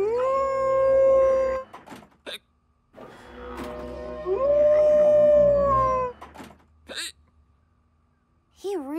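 Sick hound in a cartoon howling in long, wavering tones, with short whimpers and yelps between howls, loud and close.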